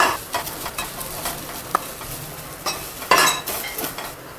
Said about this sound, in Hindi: अच्छे से फ्राई करिए भिंडी के